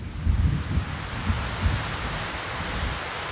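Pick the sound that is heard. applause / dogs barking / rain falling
rain falling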